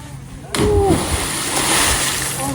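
A person jumps into a lake, and a sudden loud splash breaks in, followed by churning, sloshing water, with voices nearby.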